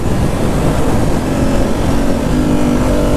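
A Ducati StreetFighter V4 S fitted with an SC Project titanium exhaust roars steadily and loudly up close, a dense, continuous engine drone with no voices over it.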